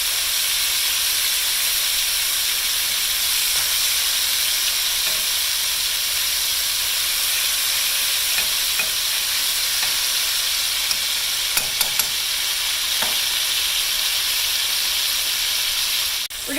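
Swiss steak browns in a hot pan with a steady, even sizzle and hiss that runs unbroken and fairly close, with a few faint clicks of handling and no talking.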